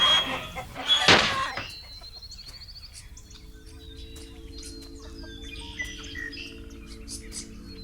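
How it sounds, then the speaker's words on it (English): Chickens squawk and cluck with a sharp, loud burst near the start, then quieter scattered chirps and clucks continue over low background noise. "No more pecking, scratching chickens cluttering up your mind."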